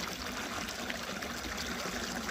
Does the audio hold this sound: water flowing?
yes